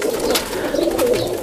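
A Salara pigeon coos up close, a loud continuous low burbling call that wavers and pulses briefly with no other sounds around it.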